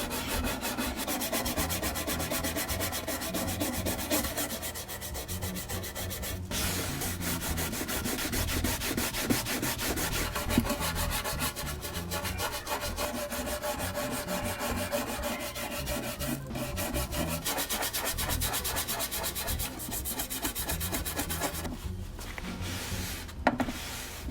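Wood being sanded by hand with 150 grit sandpaper, giving continuous rapid back-and-forth rasping strokes, close and steady for the whole stretch with short pauses near the end.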